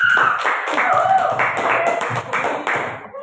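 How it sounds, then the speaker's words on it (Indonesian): A class claps for a student named Satria during an open-class school lesson, a steady patter of many hands close by with a voice talking over it. "Tepuk tangan buat Satria."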